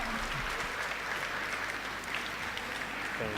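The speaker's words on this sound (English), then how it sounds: "give her applause." Steady audience applause fills a convention hall at an international gathering of English teachers, dense continuous clapping from many hands with a voice briefly cutting in at the very end.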